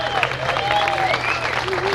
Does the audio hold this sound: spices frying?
no